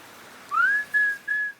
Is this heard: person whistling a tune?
yes